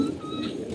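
A racing pigeon gives a soft, low cooing call, close and continuous over a short moment.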